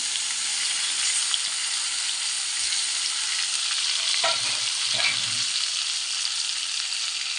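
Bitter gourd pieces fry in hot oil in a pan with turmeric, giving a steady, dense sizzle throughout, briefly broken by a couple of scraping stirs near the middle.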